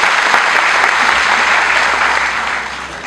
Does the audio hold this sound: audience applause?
yes